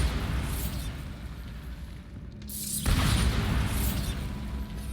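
A Bombarda blast spell in Hogwarts Legacy gives a deep booming burst that swells, drops away briefly, then returns with a heavy rumbling impact over continuous game ambience.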